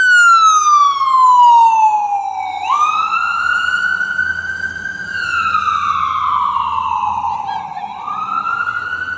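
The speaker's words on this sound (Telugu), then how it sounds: "ఇప్పుడే అంబులెన్స్ వెళ్తుంది" A loud wailing ambulance siren sweeps slowly up and down in pitch, staying close and steady for several seconds as it passes a college entrance in the United States.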